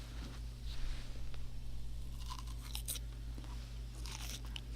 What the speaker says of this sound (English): you want to hear a grape crack?